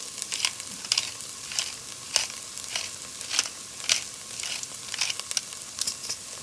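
A pot of grey snapper stew seasoned with freshly ground black pepper is stirred, producing a steady soft sizzle broken by regular scraping strokes of the spoon, close and moderately quiet with no talking.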